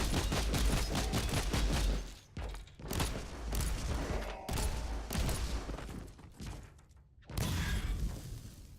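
In the video game Warhammer 40K: Inquisitor - Martyr, grenades go off amid loud gunfire and rapid-fire bursts, with dense explosive blasts followed by short pauses and another heavy volley.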